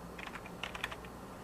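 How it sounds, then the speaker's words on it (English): Computer keyboard being typed on, a quick irregular run of soft clicking keystrokes, close but faint over a steady background hum. "keyboard's gone crazy on me"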